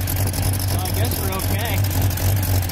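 Engine of a 1989 Jeep Cherokee with a Banks Revolver header, suspected of an exhaust leak, running steadily and loudly up close, a constant drone with a person talking over it.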